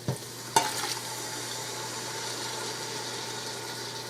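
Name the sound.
stirring canned diced tomatoes into hamburger stew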